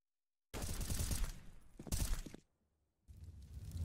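Counter-Strike gunfire from a professional esports match, MIBR versus Noxious, comes in two loud dense bursts of shots with a short gap and then a third burst, with no talk over them.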